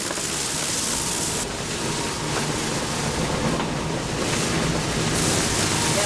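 Strong wind of 20 to 25 knots roars steadily while waves rush and break nearby, a loud, unbroken wash of noise with no voices.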